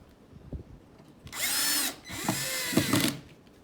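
A power drill drives a screw into wood while mounting a Franklin Brass self-closing bottom-mount drawer slide: two close, loud whirring bursts, the second longer and ending with a few clicks as the screw seats.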